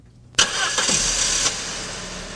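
A Saab 9-5 car engine cranks briefly, catches and starts, then settles into a steady idle close by.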